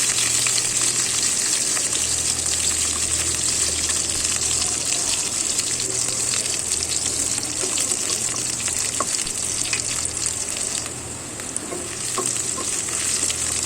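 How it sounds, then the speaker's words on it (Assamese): Chopped onions with bay leaves fry slowly in a pan over medium heat, giving a steady, close, even sizzle with faint stirring scrapes throughout and no talking. "মিডিয়াম জুইত মই লাহে লাহে পিঁয়াজখিনি ভাজি আছোঁ।"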